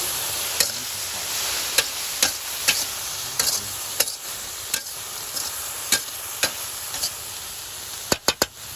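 Steady frying sizzle of cicadas in a pan with sharp metallic ticks and scrapes of stirring at irregular intervals, close by.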